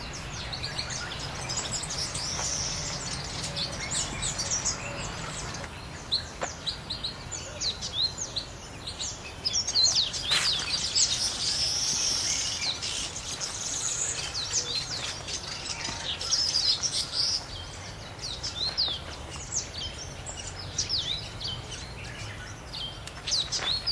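Dense chirping and calling from many birds fills a busy jungle soundscape at Limbe Botanic Garden, continuous and layered, with bright tweets rising above a constant natural hiss.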